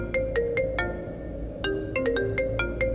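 A mobile phone rings with an incoming call, a bright electronic melody of repeated short tones over a low background hum, fairly loud and clear.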